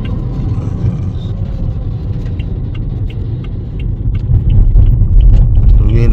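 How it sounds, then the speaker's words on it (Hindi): Dense road traffic rushes past in a steady, loud rumble of car engines and tires, swelling slightly toward the end with no voices. "तो ये नाज़रीन आप देख रहे हैं रश"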